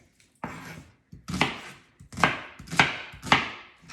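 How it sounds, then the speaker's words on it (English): A knife chops vegetables into chunks on a cutting board in a home kitchen, with five or six crisp, close thuds coming at an uneven pace and no talk. "So I'm just gonna chunk them and then sprinkle them over the meat."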